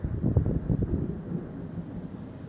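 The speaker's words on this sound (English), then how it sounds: "Super windy out." Gusty wind outside an open window on a cold night rumbles and buffets low and close, swelling in uneven surges and then settling into a steadier blustery roar.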